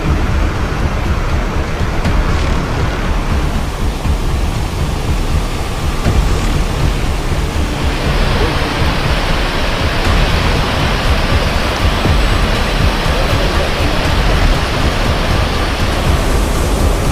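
Loud, continuous roar of rivers swollen by heavy rain in Himachal Pradesh, dense and unbroken in full flow, with no voices.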